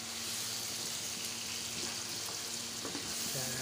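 Steady oil sizzling and crackling as spices are tempered in a pan for pulao, with occasional stirring clinks and a faint hum underneath, no voices.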